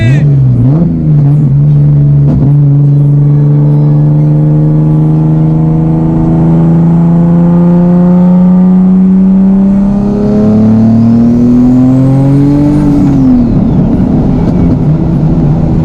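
A Toyota Supra racing a turbocharged Nissan 370Z, a loud sustained engine drone that climbs steadily in pitch under acceleration, then drops as the car shifts, with people talking over it.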